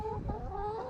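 Chickens cluck softly in a backyard coop, a short run of a few low calls close by with no voices.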